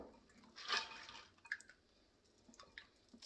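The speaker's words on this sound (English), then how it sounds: "Get the water off because we soaked them overnight." Water draining off black-eyed peas soaked overnight, poured through a sieve, a brief splashing rush followed by scattered drips and small wet sounds, close and fairly quiet.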